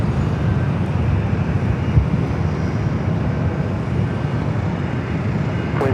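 LOT Polish Airlines Boeing 787 Dreamliner from Warsaw arriving at Los Angeles LAX on runway 24 left, a steady broadband jet roar held evenly throughout at moderate loudness with no talk.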